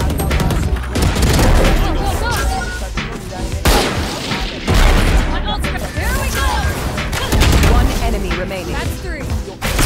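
Shotgun gunfire in a fast-paced shooter video game, with dense, loud repeated booming blasts and crashing effects filling the whole stretch, mixed with game sounds and overlapping voices.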